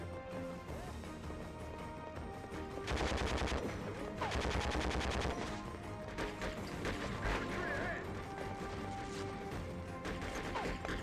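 Gunfire in the PS2 game Conflict: Desert Storm 2 rattles in repeated automatic bursts amid clanks and impacts, loud and close, with short pauses between volleys.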